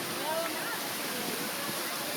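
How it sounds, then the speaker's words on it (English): A fountain at Universal's Islands of Adventure splashes steadily, a broad hiss of falling water heard close and without a break. "Check out the fountain."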